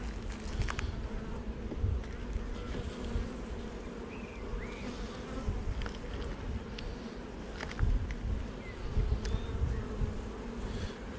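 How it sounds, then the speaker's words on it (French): Honey bees buzz around a hive in an apiary, a steady drone of many insects up close with occasional louder passes near the microphone and a few soft shuffling handling noises underneath. "Attention, les petites abeilles là"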